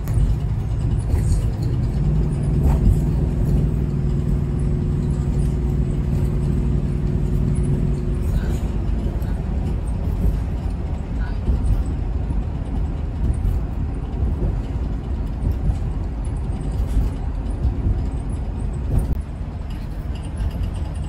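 Car cruising along Highway 1 toward a dinosaur park, a steady road rumble and tyre drone with a low engine hum throughout, constant and close from inside the vehicle.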